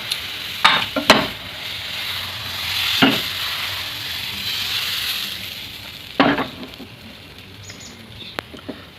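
Batter for patishapta pitha fries in a little oil in a pan, giving a soft, continuous sizzle broken by several sharp clinks and scrapes of a utensil against the pan.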